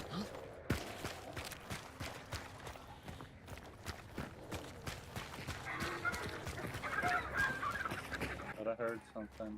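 Chickens squawk and cluck in the Hunt: Showdown game, a busy run of fowl calls mixed with footsteps and other game noise, with people talking over it.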